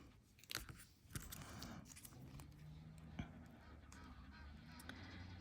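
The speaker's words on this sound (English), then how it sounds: "you can hear all the Egyptian geese having a party here outside the window" Egyptian geese honk faintly outside, distant calls scattered among soft crunching and handling noises close by.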